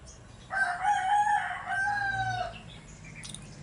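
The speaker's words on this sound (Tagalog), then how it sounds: "maraming manok" A rooster crows loudly in one long, wavering call among chickens in a backyard garden, with soft clucking and faint background noise before and after.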